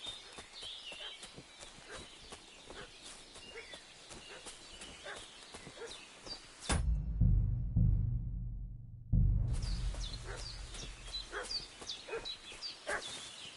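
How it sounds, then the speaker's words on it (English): In the medieval game Kingdom Come: Deliverance II, a dog barks and yips with agitation over steady clip-clopping hooves and outdoor ambience, then a loud, low rumbling passage interrupts before the yapping resumes. "What's that dog making such a fuss about?"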